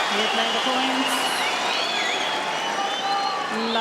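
Tennis crowd applauding at the Australian Open quarterfinal, a steady broad wash of clapping sustained throughout, with a few whoops and a commentator's voice over it.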